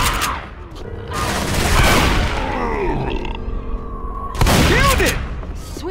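Bursts of gunfire ring out in Left 4 Dead 2, several loud volleys with booming impacts and a long middle stretch, heavy and close, with game sounds and a grunt between shots.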